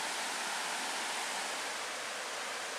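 Waterfall in the Porcupine Mountains, heard as a steady, dense broadband rush of falling water with no breaks, moderately loud and close, with no voices over it.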